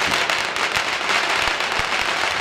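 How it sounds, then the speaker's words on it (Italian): Firecrackers set off during the Palombella festival in Orvieto: a dense, continuous crackling barrage with sharp individual bangs popping out, loud and sustained throughout. "si incendiano i mille botti"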